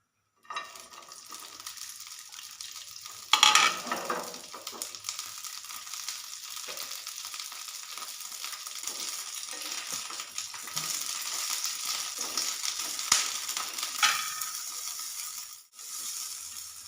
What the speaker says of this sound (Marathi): गॅस ऑन करूया तर मध्ये दोन चमचे तेल घालायचं मिरच्या भाजून घ्यायच्या